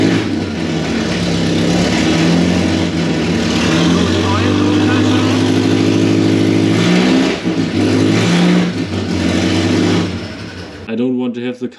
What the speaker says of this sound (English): now I will turn on the car and see what happens.